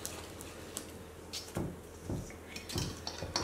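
Banana bread batter being whisked in a bowl, with irregular clinks and scraping knocks of the whisk against the bowl, louder bursts coming in short clusters toward the end.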